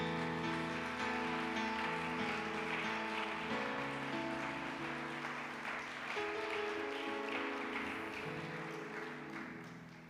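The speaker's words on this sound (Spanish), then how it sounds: "Denle un aplauso a mi Jesús." A church congregation applauding together during a Spanish-language sermon, a steady dense wash of clapping with faint music underneath that slowly tapers off.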